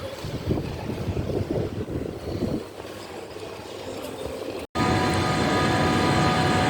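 Train pulling in at a covered station platform in Halle, a steady low rumble and wheel noise up close, followed by a loud, constant hum of rolling stock.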